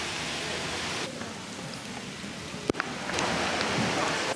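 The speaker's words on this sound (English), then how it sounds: "It's raining." Steady rain falling in a park in Lucerne, a constant hiss of drops with one brief sharp knock partway through, filling the background with no talking.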